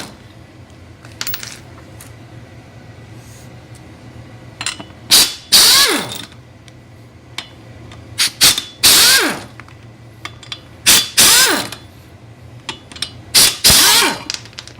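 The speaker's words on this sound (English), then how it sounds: "Take the muffler mode off the impact wrench, and let's see what she does here" An air impact wrench, powered by an Eagle EA-6500 silent series compressor, spins lug nuts off in four or five loud, rattling hammering bursts, each lasting about a second, separated by quiet pauses with faint clicks.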